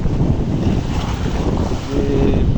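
Waves churning on a river in the Gosaba area under gusting wind, a loud, dense, rumbling wash with heavy wind buffeting close to the microphone.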